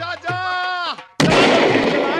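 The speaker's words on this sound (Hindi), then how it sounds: "गोली चला।" A voice speaks briefly, then a single sharp gunshot bursts out loud and close, its roar trailing off afterward.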